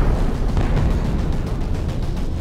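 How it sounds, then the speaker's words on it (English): A massive explosion as the Outer Heaven fortress implodes into a rising fireball at dawn: a loud, dense, continuous roaring rumble that stays heavy and steady throughout, with no voices. "Snake threw himself to the ground as Outer Heaven imploded behind him. A massive fireball rose into the dawn sky"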